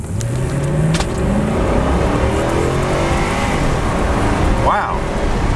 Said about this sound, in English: drop our windows down so we can hear the engine. Let's see how the V8 feels